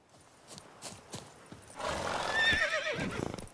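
A horse in the Witcher 3 game neighs loudly and at length after a few soft hoof clops. A clear whinny rises and falls over roughly two seconds near the end.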